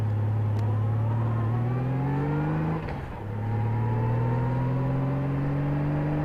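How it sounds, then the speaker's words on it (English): A big motorcycle creeps along at slow speed on the clutch, its engine holding a steady, close, mid-pitched drone that dips briefly partway through and then settles back into an even hum, with no talking. "We're going to creep the bike."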